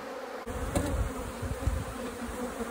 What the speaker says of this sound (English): These strong bees right here.